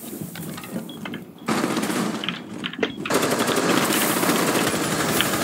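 Rapid automatic gunfire in Rainbow Six Siege, loud sustained bursts of machine-gun shots that stop briefly and then resume in a long unbroken stream.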